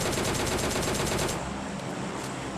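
Rapid automatic gunfire in PUBG Mobile Lite aimed at a UAZ vehicle, a dense rattling burst that continues loud for over a second and then gives way to a rougher roar, no voices.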